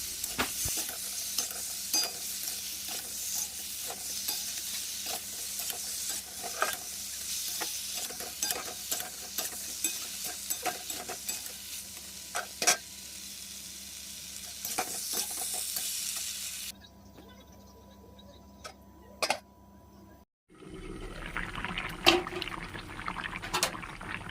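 Pointed gourd and potato pieces frying in hot oil in a pan while being stirred for a fish curry, a steady close sizzle with repeated scraping strokes that stops abruptly near the end, followed by softer clatter.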